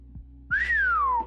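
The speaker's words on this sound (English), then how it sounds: "I tried to whistle and it didn't really work for a second" A person whistles one sustained note that slides up and then slowly down, clear and close after a couple of soft clicks, with no talking.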